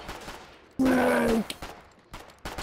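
Gunfire in the video game Foxhole, aimed at an enemy bunker: a loud sustained burst of about half a second with a ringing tone, followed by scattered sharper shots and rumbling impacts.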